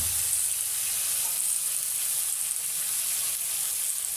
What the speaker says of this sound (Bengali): এখন ভালো করে একটু নেড়ে চেড়ে নিব, নিয়ে একটু হালকা ভাজা ভাজা করব।